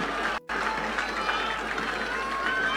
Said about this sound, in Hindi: ये जो आपकी तालियां हैं, ये जो आपकी गड़गड़ाहट है